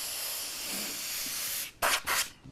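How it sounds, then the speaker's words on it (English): Airbrush blowing paint spray: a steady hiss of air and paint runs for almost two seconds, cuts off, then two sharp, loud bursts follow close to the mic. "Airbrushing, yep."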